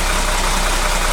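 A 1931 Chevrolet engine idles on heavy choke, giving a loud, close, steady throbbing hum with a faint knocking texture and no voices over it.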